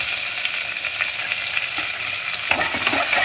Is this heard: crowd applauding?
no